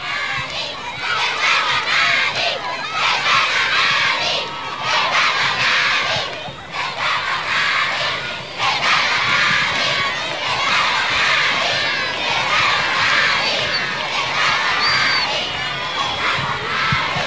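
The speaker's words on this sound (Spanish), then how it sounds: "ante la ovación de más de 1000 personas" A crowd of more than a thousand people cheers and shouts at the Government Palace as the president enters after a mounted changing of the guard, a loud, continuous roar with children's voices prominent throughout.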